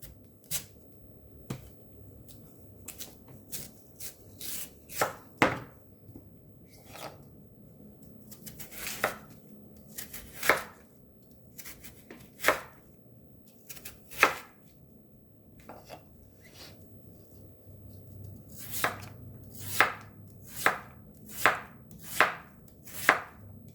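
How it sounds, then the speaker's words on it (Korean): A knife chops radish on a cutting board, irregular taps at first, then a steady quick run of close, crisp chops toward the end. "먼저 무 썰어줄게요."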